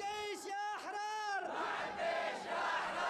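A large crowd of revolutionaries at a street rally chants in unison, rhythmic voiced slogans rising and falling, then blending into a broader roar of many voices, moderately loud throughout.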